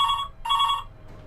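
A telephone rings twice in close succession, loud and near, with bright electronic bell tones and no talk over it.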